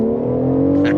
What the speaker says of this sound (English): But number one, it has a freaking V12.